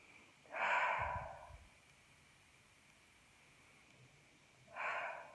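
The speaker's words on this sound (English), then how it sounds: "take 3 deep breaths" Two slow, deep breaths in a quiet room, each a soft airy rush rising and fading over about a second, separated by a long pause of near silence.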